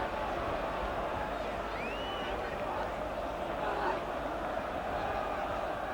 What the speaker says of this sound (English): the crowd rising to Tommy Cassidy now